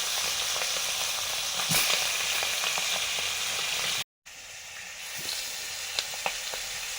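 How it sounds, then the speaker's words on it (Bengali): More hilsa fish frying in a pan crackles with a loud, even sizzle and sharp spitting pops throughout, broken by a short gap partway through. The sound is close and unaccompanied by speech. "এখানেও কিছু মাছ ভেজে নিচ্ছি।"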